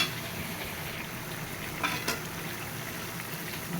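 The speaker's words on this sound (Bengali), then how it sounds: "এখন ওপর থেকে একটু ঘি দিয়ে" Hot vegetable curry in a pan sizzles softly as ghee is added from above, a steady low frying hiss with a couple of faint brief clinks.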